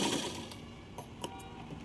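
A sewing machine runs a straight line of stitches through cloth for a small child's umbrella-style frock, giving a steady close mechanical whir with a few sharp clicks and no talking.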